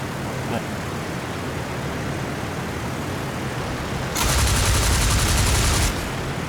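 Gunfire in the World War I flight game Flying Circus, a burst of rapid machine-gun fire for under two seconds over a constant engine drone, with a faint earlier shot.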